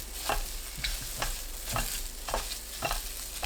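Shiitake mushrooms sizzle and hiss in a hot pan with oil and minced garlic, a steady frying crackle and about six rhythmic stirring scrapes; no voices.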